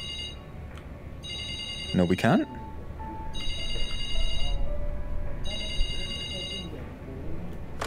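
A telephone rings in the Doctor Who: The Edge of Time VR game, in three evenly spaced bursts of bright electronic trilling, heard under a voice.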